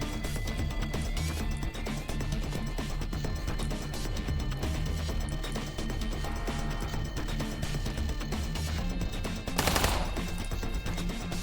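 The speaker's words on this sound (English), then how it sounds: "Who is shooting me?" Enemy gunfire rattles on in System Shock Remaster, a dense and steady stream of shots that runs almost without pause, with one sharper, louder crack near the end.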